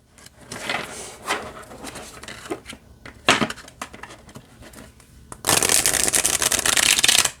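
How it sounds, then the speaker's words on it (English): Tarot cards are handled and tapped with scattered soft clicks, then a loud, sustained riffle shuffle near the end. "Let's see how it shuffles."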